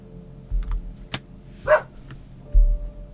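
A small dog barking in a room, a few brief separate yips and barks with quiet gaps between, fairly close and with no talking over them.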